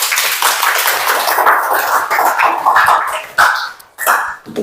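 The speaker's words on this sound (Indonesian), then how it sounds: "Tepuk tangan untuk Vanessa." Students in a classroom applaud a classmate, a loud, close burst of dense clapping that rises and falls in waves and then trails off into scattered claps.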